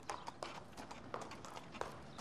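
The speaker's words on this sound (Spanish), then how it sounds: "Viajó con un carro tirado por un caballo" A horse pulls a cart along a path beside an ancient temple, its hooves clip-clopping in a steady, moderately close trot of sharp, evenly spaced knocks with a faint background wash behind them.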